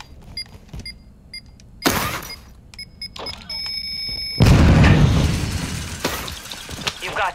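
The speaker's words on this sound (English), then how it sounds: "Totally intact after that explosion." Explosions in the Warzone 2.0 video game: a smaller blast bursts early, then a loud, close detonation roars out and rumbles on for several seconds amid crackling debris and game noise.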